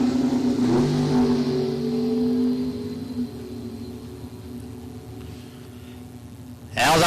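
A drag race between a front-engine dragster and a third-generation Chevrolet Camaro at a bracket racing event, with engines revving loudly early on, then fading into a distant whir, and a sharp burst near the end.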